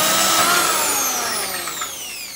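A power drill boring new holes for the top bolts during a K-Series Hasport engine mount install on a Honda Civic DC2, whining steadily and close with a rising-falling pitch throughout, no talk.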